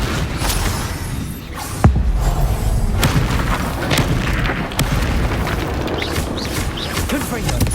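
Spell explosions in the video game Hogwarts Legacy, booming blasts and bursts in quick succession during a duel, with one sharp loud hit near the start, all over a dense, steady roar of battle effects and music.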